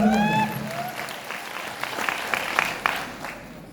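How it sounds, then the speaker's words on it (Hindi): An audience at a motivational talk breaks into applause, a brief patter of clapping following a voice that trails off, with the clapping fading out quickly. "एपीएलएल के लिए चाहूंगा एक बार जोरदार ताली"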